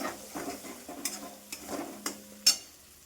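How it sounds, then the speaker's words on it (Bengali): Eggs sizzle quietly in a pan while a utensil stirs and scrapes, with several sharper clinks of metal against the pan. "এবার ডিমের ভুর্জিটা বানিয়ে নেব"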